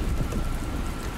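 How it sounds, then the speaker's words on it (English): Heavy downpour in the post-apocalyptic game Dustland Delivery, a dense steady hiss of rain with low rumbling underneath, constant and loud throughout. "Wow, that rain is heavy."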